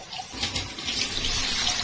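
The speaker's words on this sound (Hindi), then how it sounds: "अब मैं इसके अंदर पानी ऐड करूंगी, 2 कप पानी ऐड करूंगी इसके अंदर मैं।" Two cups of water pour steadily into a pot of chana pulao, a continuous close splashing rush with no talk.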